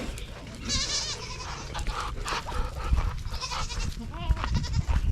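Goats in a Back to Eden garden bleat repeatedly and loudly as they come in for food, several overlapping calls near the listener over shuffling and movement noise.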